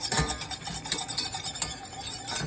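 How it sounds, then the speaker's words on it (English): Food being stirred in a pan on a home stove, a steady run of soft scraping and clinking strokes with a faint sizzle underneath, close and alone with no talking. "I'm going to be here stirring this"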